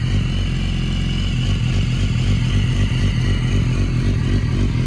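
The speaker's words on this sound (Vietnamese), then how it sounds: "Để cho nóng máy một hồi mình sẽ nẹt nhẹ nhẹ cho anh em nghe." A BMW S1000RR sport bike with a titanium exhaust idles to warm up, a loud, steady, close rumbling engine drone with a fast, even pulse and no revving.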